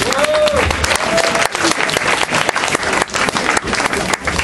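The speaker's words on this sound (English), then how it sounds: "Give the judges a round of applause." Loud, dense applause fills a poetry slam room, a steady clatter of many hands clapping throughout, with a brief voice heard in the middle.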